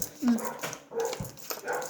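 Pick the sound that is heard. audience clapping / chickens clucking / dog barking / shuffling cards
dog barking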